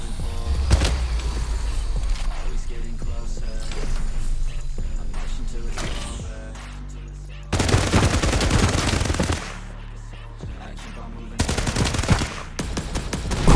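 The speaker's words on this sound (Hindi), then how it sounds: "तभी मैंने इन पर फायर किया और एक बंदा मैंने नॉक कर दिया" Bursts of automatic gunfire in the shooter game Farlight 84 come loud and close, with several long sustained volleys broken by short pauses and mechanical clatter between them.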